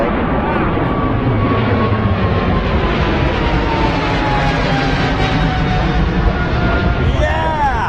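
Eva Air airliner at London Heathrow, a loud continuous jet engine roar that swells and shifts slightly in pitch across eight seconds, with voices faintly present under it.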